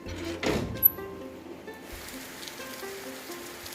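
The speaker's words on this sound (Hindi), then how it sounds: "घर के अंदर से ही आपको दिखाते हैं बारिश" Steady rain falling outside a house, heard from indoors as a soft, continuous hiss with a few louder knocks and drips early on, fairly faint and even throughout.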